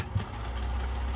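A Viking Husqvarna 2000 sewing machine runs in low gear with a steady low motor hum, close and quiet, after a small click at the start.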